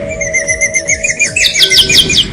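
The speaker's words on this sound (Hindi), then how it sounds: "सर्द मौसम में बड़ी संख्या में नदी तालाबों में ये पक्षी कलरव करते नजर आ रहे हैं।" Migratory birds call at a lake in Kota in cold weather, a loud, close flurry of repeated high chirps and whistled notes that quicken and layer into a busy chorus, with no talking.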